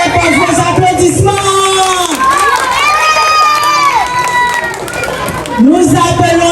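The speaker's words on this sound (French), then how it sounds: "Encouragez-les par vos applaudissements." A school crowd cheers at a bilingual school show in Cap-Haïtien, Haiti, as children perform: steady, loud crowd noise with high children's shouts and voices throughout, rising again near the end.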